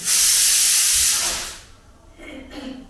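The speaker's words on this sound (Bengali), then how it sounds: "প্রেশার কুকারে ভাত হয়ে যাচ্ছে" A loud burst of hissing steam from a pressure cooker lasts over a second, then fades, followed by faint murmuring sounds.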